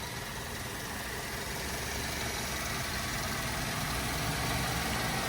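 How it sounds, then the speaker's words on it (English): A 2010 Mazda 3 with a 2-liter four-cylinder engine idles steadily under the open hood, a smooth, even hum with no knocks or rattles, heard alone and close. "nice and smooth running engine, no odd noises or vibrations"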